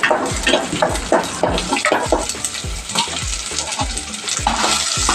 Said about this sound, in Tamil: சின்ன வெங்காயம் நல்லா வறுந்துட்டோம்